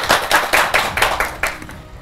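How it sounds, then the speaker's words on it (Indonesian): A small studio audience claps for two guests from Geraha Cinema on an Indonesian talk show, with a quick run of about ten distinct near claps fading slightly toward the end. "Tepuk tangannya meriah dong buat tamu spesial kita hari ini."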